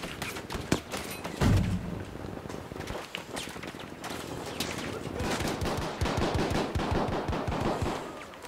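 Gunfire in the World War II shooter game Battlefield V: bursts of rapid rifle and machine-gun shots crack repeatedly, with a heavy thump early on and dense rattling fire toward the end.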